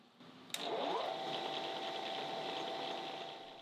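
After a click, a lathe spins up a freshly made slitting saw arbor and settles into a steady, smooth mechanical whir with a faint tonal hum, close and moderately quiet, fading slightly near the end.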